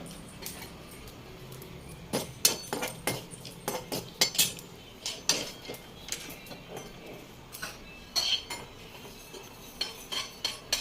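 Roasted masala for a spicy homemade potato curry is scraped and transferred onto a plate, giving a quick series of sharp metallic clinks and scrapes of a utensil against cookware, close and moderately loud, with no talking.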